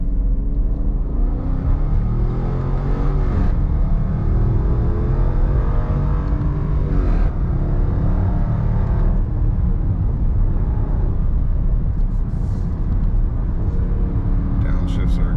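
A 2022 Dodge Durango R/T AWD in sport mode, shifted with paddles, pulls hard with a loud, deep engine roar that rises and falls through gear changes while someone talks over it.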